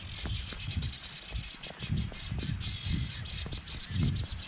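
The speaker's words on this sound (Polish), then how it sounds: "Kaczki jakieś, czy coś." Ducks or geese beside the Elbląg Canal inclined planes, a flock honking repeatedly in irregular bursts at moderate distance over steady background noise.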